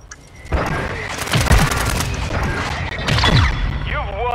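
Explosive devices go off in a Call of Duty: Modern Warfare match as loud booms and crashing blasts, with a few bursts of impact and debris and game radio voices mixed in.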